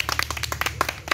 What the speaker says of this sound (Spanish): Apláudanle ahí a Ana.